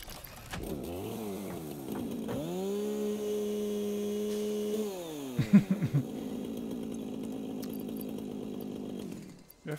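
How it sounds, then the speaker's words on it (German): A chainsaw in the Satisfactory video game revs up and holds a steady high-pitched buzzing drone, dips and revs again, then runs on with a rougher grinding tone for several seconds, close and loud without talk. "Ja, für sowas ist die Kettensäge echt geil."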